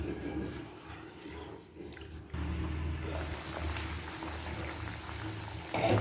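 Steady bubbling and rumbling of water boiling in a pot, with a brief quieter dip before the sound swells again and continues unbroken.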